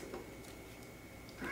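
A cat gives a short, quiet meow just at the end of a faint stretch of kitchen room tone during smoothie making.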